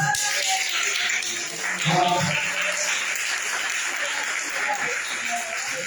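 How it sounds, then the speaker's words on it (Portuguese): A church congregation claps during a worship service, with moderate, steady applause spread through the room and some voices mixed in underneath. "Dá uma salva de palmas para Deus."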